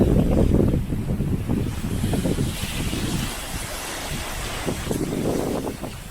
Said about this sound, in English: It was so windy that we reaped our mainsail.